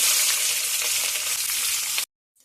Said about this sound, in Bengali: এবার আমি দিয়ে দেবো কাটা কুচনো পেঁয়াজটা